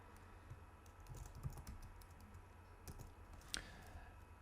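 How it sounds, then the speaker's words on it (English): Fingers tap out a short burst of typing on a computer keyboard, quiet irregular clicks with a few sharper keystrokes, heard close and faint over a low room hum. "just type this in at the end."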